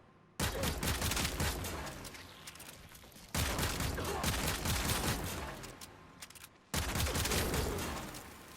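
Rapid gunfire from a Detron weapon in the Warframe video game on PS4 comes in three loud sustained bursts separated by brief lulls.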